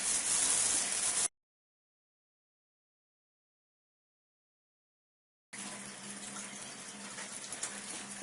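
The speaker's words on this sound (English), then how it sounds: "the water running from the faucet through the machine and into the sink" Water running from a faucet through a water ionizer into a sink, a steady close rushing gush that cuts out abruptly into silence and then returns just as steady.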